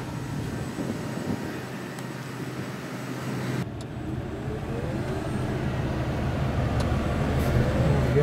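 A converted vehicle running on its factory transmission drives along at around 30 mph, giving a steady, continuous road and drivetrain rumble that builds slightly in loudness toward the end, with no talk over it.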